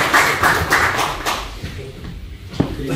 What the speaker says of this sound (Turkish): Tataristanlı şairimizi alkışlarla huzurlarınıza davet ediyorum